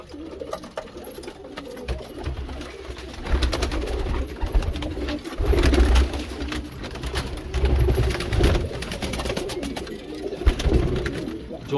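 A flock of white bar Lalban pigeons from Sonipat coos steadily and close up, with overlapping low throaty calls pulsing throughout and no one speaking.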